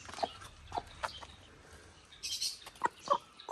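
A rain-soaked mother hen with ducklings gives a string of short, soft clucks at uneven intervals, close by against a quiet background.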